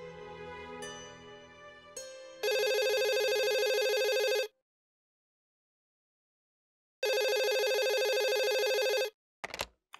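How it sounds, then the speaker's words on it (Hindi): A telephone rings in two long electronic trilling bursts separated by a pause of silence, loud and close, with softer musical tones leading in beforehand and a brief click at the end. "आपने फोन उठा लिया"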